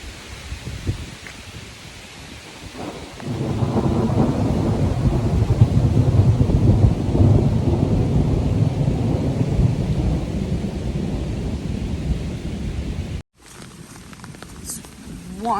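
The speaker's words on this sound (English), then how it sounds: "Should get some thunder here in a second." Thunder rolls in a long, deep rumble over steady rain on the Appalachian Trail, swelling and holding for several seconds before cutting off, with a voice heard briefly near the start.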